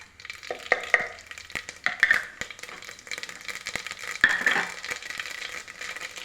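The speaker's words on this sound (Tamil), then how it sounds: "எண்ணெய் காஞ்சிருச்சு. கடுகு, சீரகம், உளுந்து," Mustard seeds, cumin and urad dal sizzling and crackling in hot oil, a close, busy frying hiss dotted with sharp popping clicks and stirring rattles, steady over several seconds.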